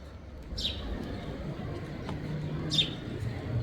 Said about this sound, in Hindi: चिड़िया प्यारी सी बोल रही है बैठ के